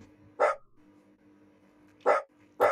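Three sharp dog barks in a Minecraft mod game, one near the start and a quick pair near the end, loud against a quiet low hum with no talking.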